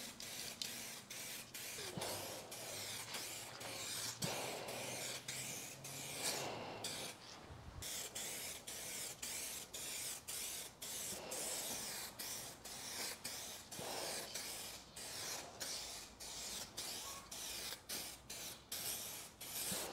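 A second, wetter clear coat sprayed onto a restored headlight: steady close hissing from the spray gun, broken by short regular pauses, with no talking.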